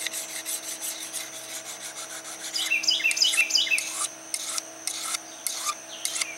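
A crook knife blade is rubbed back and forth on a sharpening surface, giving close, steady rasping strokes that grow louder and more distinct midway, then settle into separated short scrapes.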